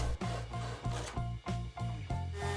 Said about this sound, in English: Then I sanded the boxes.